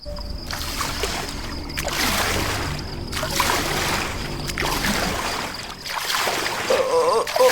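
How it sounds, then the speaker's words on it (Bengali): Oars dip and pull a boat across a river in a cartoon scene, giving a steady rhythm of watery splashes and sloshing strokes about every second or so, close by and without voices. "ভয়ে ভয়ে দাঁড় বাইছে সে।"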